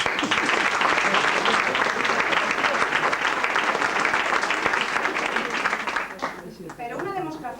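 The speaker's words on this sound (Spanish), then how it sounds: "un gran aplauso a su magnífica carrera" A theatre audience at a women's culture week stage play breaks into loud, sustained applause that fills most of the stretch, then thins out as a voice begins speaking near the end.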